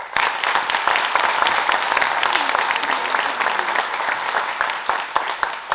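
A school TED talk showcase audience gives a loud, lively round of applause, dense crowd clapping with sharp individual claps standing out and faint voices mixed in.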